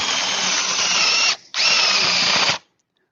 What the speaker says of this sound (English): So I just get a 22mm drill, or a 20mm, or any size drill really.